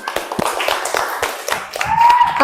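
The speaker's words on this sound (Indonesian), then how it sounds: "tepuk tangan untuk Rudi" A small classroom group of students claps for a classmate, giving a short scattered round of uneven hand claps and taps, close and fairly loud, lasting just a couple of seconds.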